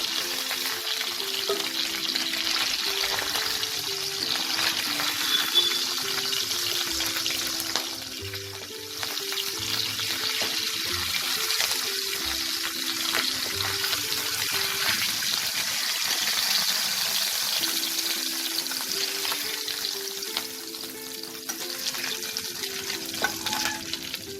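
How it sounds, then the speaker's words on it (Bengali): Pabda fish frying in hot oil in a home kitchen, a steady close crackling sizzle that holds throughout with occasional stirring and utensil sounds, no voices. "এইভাবে আমি আরও মাছগুলো ভেজে নেব।"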